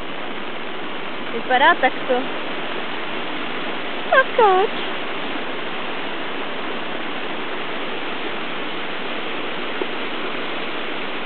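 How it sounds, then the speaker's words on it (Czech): A small creek swollen by flooding in Nýznerov rushes with a steady, dense roar throughout, while a voice speaks briefly over the water. "A náš malý potok, ve kterém ráda skáču"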